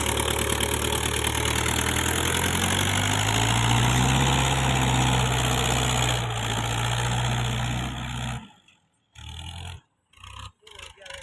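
A powerful farm tractor hauling a full load of 200 sacks runs loud and close, its engine droning steadily and briefly rising in pitch before the sound breaks into choppy dropouts near the end.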